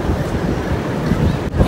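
Sea waves and gusty wind at Lusail Boulevard in Qatar, a loud, continuous broadband wash with wind buffeting the microphone throughout.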